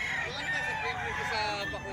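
Chickens and roosters crowding a poultry market, dense overlapping crows and clucks filling a brief moment, with voices mixed in.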